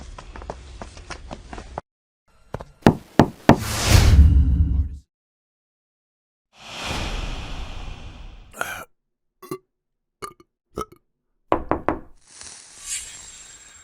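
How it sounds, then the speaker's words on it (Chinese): A police officer raps on a suspect's apartment door during an arrest operation, in two bursts of sharp, close knocks separated by quiet, with no talking. "我来敲门"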